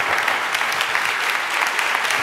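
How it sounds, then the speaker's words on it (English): Dense, sustained applause from an audience at a launch event at the Urban Zen Center in New York, steady and fairly loud throughout with no gaps. "Please give him a great big round of applause."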